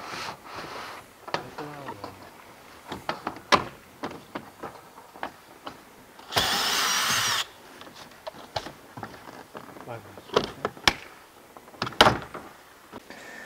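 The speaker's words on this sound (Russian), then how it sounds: "спокойно вот в это место мы будем закручивать саморез" A power screwdriver drives a self-tapping screw into stone-effect Bergard facade siding panels, giving one steady buzzing burst of about a second amid scattered clicks and taps of panel handling, with no talk.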